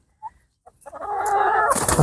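BV380 laying hens on a farm cluck close by, a brief soft note followed by a rising burst of busy clucking and squawking that grows louder toward the end.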